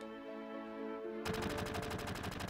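Machine gun fire from the Final Fantasy VII video game cuts in after a steady tonal hum, a rapid rattling burst of shots repeating evenly and loudly for over a second.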